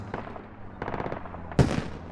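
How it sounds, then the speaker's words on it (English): An anti-aircraft gun fires in the military game Squad, heard as short, rapid bursts of rhythmic thumping shots at moderate distance, with a sharper louder blast near the end; no talk over it. "AA is shooting at something."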